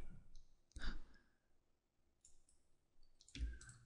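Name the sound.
computer mouse clicking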